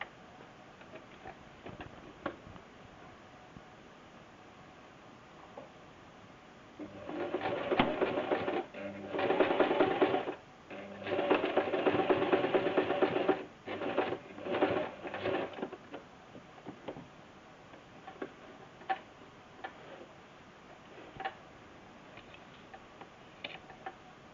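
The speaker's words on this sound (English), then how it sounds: "We've still got to sew the bodice back to the front" A sewing machine stitches the bodice of a girl's dress in several bursts of fast, steady ticking, with quieter gaps and light handling noises between runs; close and clear, no talk.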